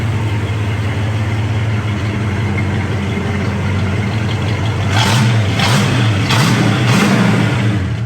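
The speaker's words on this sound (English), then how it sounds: "Nice sounding dual exhaust" A 1968 Ford Mustang Coupe idles with a deep, steady dual exhaust rumble, then revs a few times in short bursts before settling.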